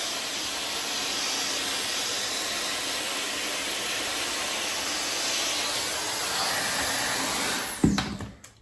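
A hair dryer blows hot air onto hair during an overnight blowout routine, producing a steady, loud, close whooshing roar that holds evenly before switching off abruptly near the end.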